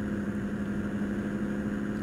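A Toyota Coaster bus engine in American Truck Simulator pulls steadily under acceleration along a narrow Honduran highway, a continuous mid-pitched drone with a strong low hum, close and alone without talk.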